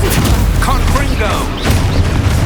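Confringo fire spell explosion in Hogwarts Legacy, a loud, dense booming blast with crackling bursts sustained throughout, layered with other spell effects, under a voice calling out.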